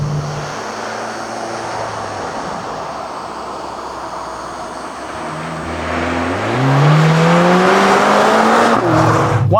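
A Mercedes-AMG CLA 45 S engine hums steadily at cruise, then surges loudly under hard acceleration with rising revs and quick gear changes, close and alone.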